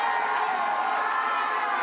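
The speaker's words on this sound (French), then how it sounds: "Entendez-vous la réaction de la foule?" A crowd at a secondary-school wrestling show in Mortagne roars and cheers in a loud, continuous swell that fills the whole two seconds.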